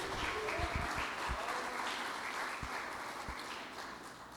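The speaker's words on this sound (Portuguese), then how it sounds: "irmãos, aplauda Jesus." A church congregation applauds together during a sermon, with a steady, fairly faint patter of clapping and a few closer hand claps standing out.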